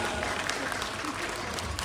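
An audience applauds for SD Negeri 032 Tilil at an angklung festival in Bandung, a dense, continuous wash of clapping filling the whole short moment.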